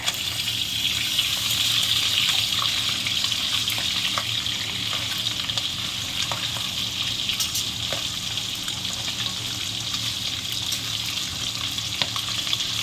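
Catfish frying in hot oil in a pan, a steady loud sizzle and crackle running unbroken throughout, with occasional faint clinks of the utensil.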